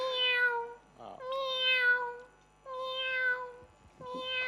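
A cat gives a series of four clear, drawn-out meows, close and fairly loud, evenly spaced with brief gaps of quiet.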